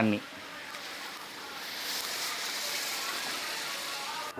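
About 5 litres of water pours into a cooking pot of masala-coated country chicken in a steady rushing stream, the hiss growing fuller partway through and then continuing evenly until it stops.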